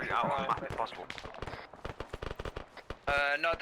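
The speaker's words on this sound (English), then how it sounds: "We're taking fire from somewhere." Gunfire rattles in the military video game Arma during a Syria-deployment campaign, a string of sharp bursts and shots under and between talking players.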